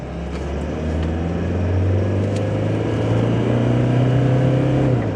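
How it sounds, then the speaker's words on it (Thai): A 2019 low-cab pickup truck drives along, its engine a steady, loud drone heard from inside the cab, with no talking. "ขับโคตรดีเลยคันนี้"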